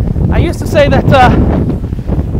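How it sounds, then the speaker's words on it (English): Strong wind buffets the upper deck of the Carnival Paradise cruise ship, roaring as loud microphone rumble while someone speaks close up over it. "It's very windy up here."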